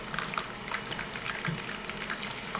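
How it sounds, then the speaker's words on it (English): Boneless fried chicken for honey butter fried chicken bubbles and crackles in hot oil, a continuous, close, fizzing sizzle with scattered pops. "So we're coming in, last round of frying, looking good."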